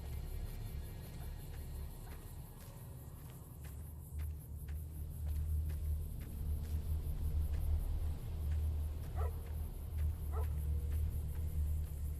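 A dog barking in the video game Fallout, a few short barks and whimpers at moderate distance over a steady low rumbling game ambience.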